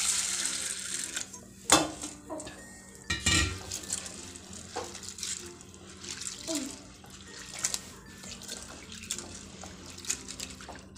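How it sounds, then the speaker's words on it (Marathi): Sago pearls being rinsed clean in a bowl of water in a home kitchen, with splashing and swishing, a few louder knocks and sloshes, and soft clinks of the vessel throughout. "आता आधी हा स्वच्छ धुवून घ्यायचा."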